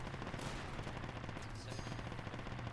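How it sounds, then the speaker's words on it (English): Heavy gunfire and cannon blasts in the military shooter game Project Reality, a dense, continuous barrage of rapid shots with a low rumbling base, loud and sustained throughout. "Sounds like a tank."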